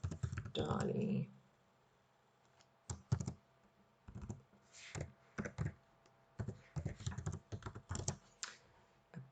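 A computer keyboard clatters in irregular bursts of keystrokes while someone types text into a design program, close and fairly quiet, with brief pauses between runs of typing and a voice early on.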